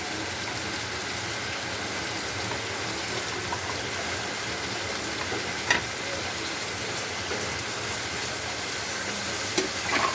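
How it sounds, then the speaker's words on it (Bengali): Mixed vegetables, including cauliflower and beans, stirred and fried with salt and spices in a pan: a constant, dense sizzle held at an even level, with a few faint knocks. "এবার সব একসাথে নেড়ে চেড়ে কষে নেব।"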